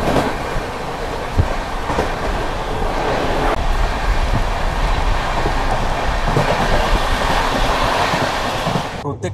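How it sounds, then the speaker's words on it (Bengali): The Akal Takht Express rolls along the rails past Durgapur and Andal on the Kolkata to Chandigarh run, a steady loud rumble with rhythmic wheel clatter heard from on board, unbroken for the whole stretch. "আমাদের ট্রেন এই মুহূর্তে পার করে এলো দুর্গাপুর স্টেশন"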